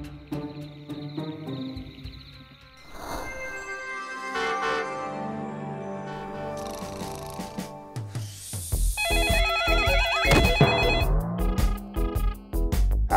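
A telephone rings in a Bangla animated cartoon, its repeated bright electronic ring tones layered over music and busy background effects, rising louder toward the end with no talking.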